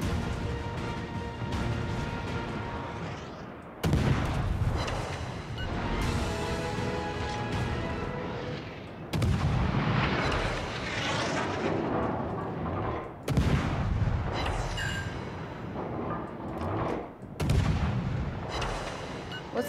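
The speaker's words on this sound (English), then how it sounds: "Concentrate fire on the enemy warship." Warship artillery in the naval combat game World of Warships fires in heavy booming salvos, several loud blasts spaced a few seconds apart, each followed by rumbling crashes and debris.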